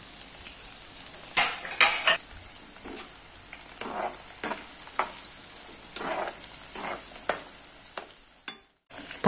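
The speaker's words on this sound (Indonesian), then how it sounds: "Oke, minyak sudah panas, kita goreng saja tempenya." Tempeh and tofu frying together in hot oil for a spicy anchovy sambal, a steady crackling sizzle with sharp bursts of spatter and occasional clinks of utensils against the pan, close and continuous with no talking.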